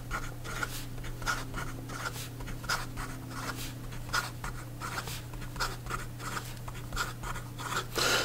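A Montblanc Meisterstuck Ultra Black LeGrand fountain pen writing fast on paper, its nib giving quick, rhythmic scratchy strokes over a steady low hum, close and clear with no speech.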